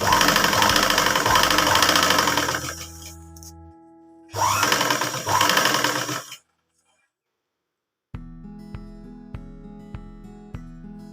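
A sewing machine stitches colored fabric pieces with black thread in short loud bursts of fast mechanical whirring, broken by silent pauses and then a slower run of evenly spaced stitching clicks.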